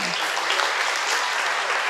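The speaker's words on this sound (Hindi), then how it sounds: "तालियां बजाओ बाबा" An audience at a devotional satsang gathering claps together in a brief, continuous burst, a dense wash of hand claps heard close and fairly loud.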